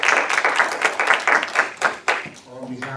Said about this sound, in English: We have a round of applause for them as well.